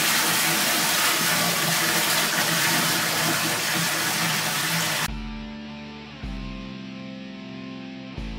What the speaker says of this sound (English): What I'm gonna do is just start filling up the water.